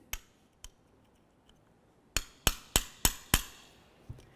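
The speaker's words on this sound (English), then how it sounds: "give it a couple loving bonks with your hammer to try breaking it free" Close, loud hammer blows on a punch against a front wheel hub ear of a 2004-2006 Scion xB come in a quick run of five, after a few lighter taps and ticks.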